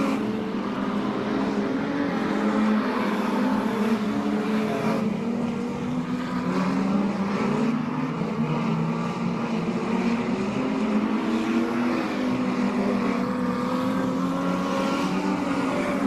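Street stock race cars lap Laang Speedway in a continuous loud engine roar, the pitch rising and falling as the pack circles the oval track at speed.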